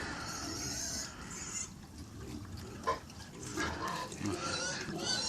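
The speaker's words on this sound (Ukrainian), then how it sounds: "Це щось поросятко гризе кільця." Close wet crunching and chewing noises from a Vietnamese pot-bellied piglet gnawing rings, irregular bites and gnawing with soft grunts, no talking.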